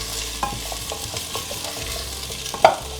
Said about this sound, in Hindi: और हाई हीट में ही इनको इतना भूनेंगे जो नीचे का सारा हिस्सा ब्राउन हो जाए।